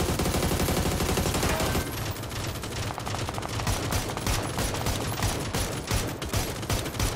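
Sustained automatic gunfire in PUBG on the Miramar map, a dense rapid stream of close, loud shots firing continuously for several seconds with no talking.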